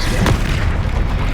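A Confringo blasting spell explodes in the Hogwarts Legacy video game, making a loud, continuous booming blast with a dense low rumble throughout.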